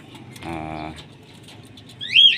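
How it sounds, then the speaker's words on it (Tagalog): Pigeons in a loft coo in a short low burst, then a brief higher chirp follows, close, amid faint background noise. "6:15 release ng Elijah Batangas yung mga ibon."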